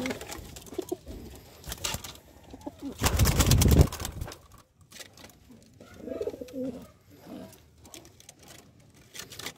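A WPF-banded racing pigeon visiting a loft coos softly in the afternoon, with low murmuring calls scattered through the clip and a louder rustling burst partway through.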